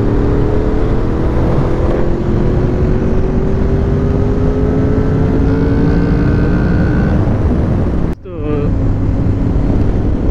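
Motorcycle engine rising in pitch as it accelerates to overtake on a mountain road, loud and close under heavy wind buffeting on the microphone, with a brief dropout near the end.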